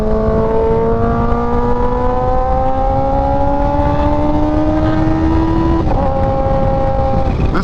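A loud, close Kawasaki Ninja H2 engine with an aftermarket exhaust revs steadily higher in pitch, then a quick-shifter gear change snaps through near the end before it keeps pulling.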